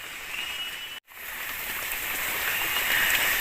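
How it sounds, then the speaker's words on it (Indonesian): Heavy rain pours steadily onto a tree house in a forest, a dense, loud hiss of drops that briefly cuts out and then returns, building slightly in intensity. "Hujan guys"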